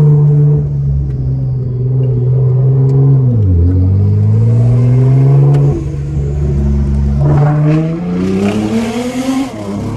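A Nissan GT-R engine revving hard, a loud close roar that climbs, dips sharply and surges back up, with a burst of hissy blow-off from the dump valve near the end.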